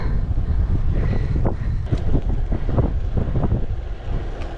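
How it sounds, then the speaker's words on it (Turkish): Strong wind buffets the microphone throughout during a bicycle ride in Gelibolu, Çanakkale, a loud continuous low roar with gusty rumbling and no speech. "Fena bir rüzgara denk geldik."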